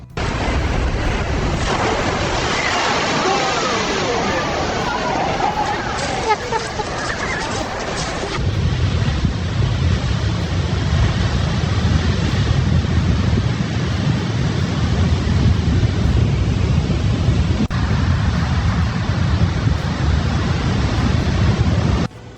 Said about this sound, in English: dangerously large breaking waves of 26 to 30 feet, with up to 38 feet possible at favored locations